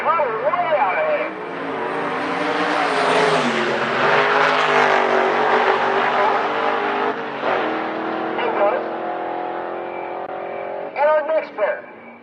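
Drag race cars launch down the strip at Rocky Mountain Race Week, engines roaring loudly and steadily as they accelerate away, with an announcer talking over the noise.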